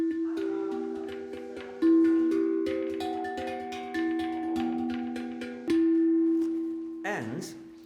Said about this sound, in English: these are actually made from 9 kilo gas bottles, and they make a sound like this.